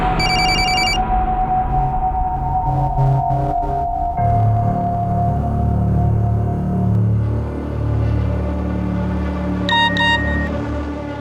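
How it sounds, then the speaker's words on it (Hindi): A mobile phone rings in short repeated electronic bursts, loud and close, over a steady background of music or hum. "शोएब, प्लीज मेरा फोन पिकअप करो, अर्जेंट है"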